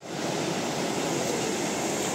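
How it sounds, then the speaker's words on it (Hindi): Fast-flowing mountain river in Himachal rushing steadily, a dense, loud broadband roar of water close by with no pauses or voices. "पानी का बहाव बहुत तेज है"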